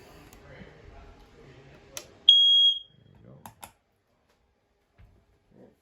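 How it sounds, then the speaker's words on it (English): A smoke detector mounted in the ceiling of a 2021 Avenger 26DBSLE travel trailer gives one loud, steady, high-pitched beep of about half a second, with quiet room noise and a few small clicks and knocks around it. "Right above my head here, you got your smoke detector."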